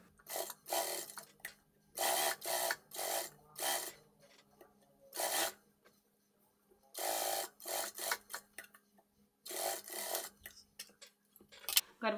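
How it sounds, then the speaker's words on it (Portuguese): A straight-stitch sewing machine topstitching the collar of a long tailored vest, running in short repeated bursts of a few seconds each with quiet pauses between them, close and faint, with no voices. "Agora eu vou lá para máquina reta e vou pespontar minha gola pelo lado direito."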